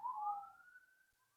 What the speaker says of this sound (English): I am not going to be able to film without the sound of sirens in the background